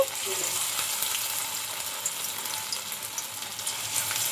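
Food pieces shallow-frying in a small amount of hot oil in a kadai, giving a steady, close crackling sizzle with faint pops throughout.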